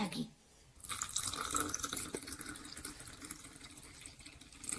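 Tap water runs into a drinking glass being filled for dough preparation, a steady close splashing stream that starts after a brief pause and continues evenly, with faint background noise.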